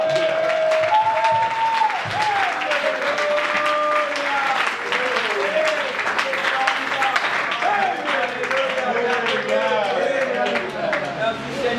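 An audience bursts into sustained, loud applause during a French-language sermon on faith, clapping densely and continuously with crowd cheers mixed in throughout.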